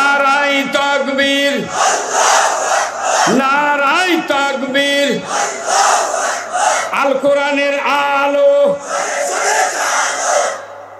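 Large crowd at a Bangla Islamic waz sermon gathering shouting Allahu Akbar in unison after each takbir call, loud, repeated bursts of massed chanting voices in call-and-response rhythm.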